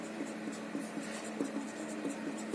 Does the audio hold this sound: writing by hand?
yes